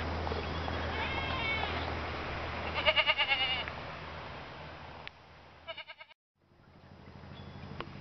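Goats bleat in short wavering cries, a few calls spaced apart over a low rumble of running water near a small bridge and outdoor background noise, on the Lycian Way between Cayagizi and Kas.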